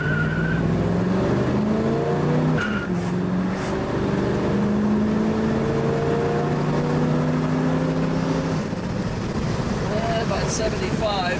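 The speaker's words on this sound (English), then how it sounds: "You can hear that it cracked the tires loose in second gear." A 1967 Chevrolet Camaro with a three-speed transmission and a shift kit accelerates hard, its engine pitch climbing and dropping through firm gear changes while the tires break loose, loud over wind noise and heard from nearby.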